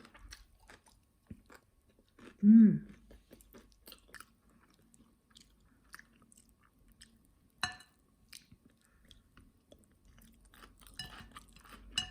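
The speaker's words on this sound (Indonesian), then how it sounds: "Togenya, renyah." Someone chews crunchy bean sprouts with rice and pecel, a loud crisp bite followed by softer, scattered crunches and chews in a quiet room.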